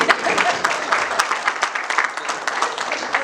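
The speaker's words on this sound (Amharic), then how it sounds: "ካጨበጨባችሁ በደንብ አጨብጭቡ" An audience applauds continuously, with a dense patter of many hands clapping at close range for a few seconds.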